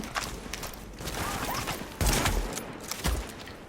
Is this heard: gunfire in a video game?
yes